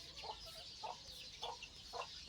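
Chickens cluck softly in a backyard, four short evenly spaced clucks over a faint hissing outdoor background.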